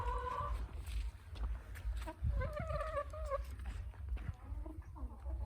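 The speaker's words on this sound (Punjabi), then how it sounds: "ਆਪਣੇ ਕੋਲੇ ਬਹੁਤ ਵਧੀਆ ਮੁਰਗੀ ਆਂਡਾ ਦੇ ਰਹੀ ਆ" Desi hens on a Punjab farm, including egg-laying RIR birds, cluck and squawk in a busy, overlapping mix against steady background noise.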